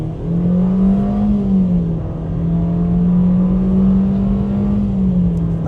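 A 2024 Nissan Versa SR's 1.6-liter four-cylinder engine accelerates with a steady, loud droning hum whose pitch rises and falls gently, heard close up and alone without talk.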